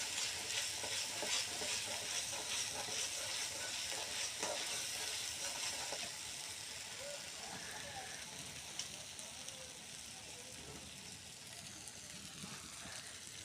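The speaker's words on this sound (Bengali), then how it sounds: "ভালোভাবে নেড়ে ছেড়ে মশলাটাকে কষিয়ে নিব।" Spices fry and get stirred in a pan, a steady close sizzle with the scrape and rustle of a spoon moving through the masala, which eases a little toward the end.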